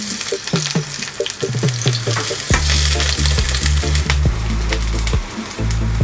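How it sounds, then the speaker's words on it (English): Fritters fry in hot oil in a pan with a steady, loud sizzle, broken by several sharp scraping and tapping knocks as they are turned over. "we're going to fry them for about 3 to 4 minutes on each side, or until they're nice and done and crispy"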